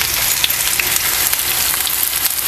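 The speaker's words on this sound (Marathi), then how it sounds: "आपल्याला तेलामध्ये ना चांगलंसं आपल्याला असं परतून घ्यायचं आहे" A potato and gram flour snack frying in oil gives a close, steady crackling sizzle throughout, dense and even with tiny popping bursts.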